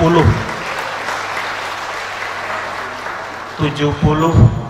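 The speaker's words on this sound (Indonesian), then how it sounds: "Kita berikan aplaus" Audience at a city tax awareness award night in Malang applauding, a loud steady burst of many hands clapping that fades as a presenter's voice returns over the end.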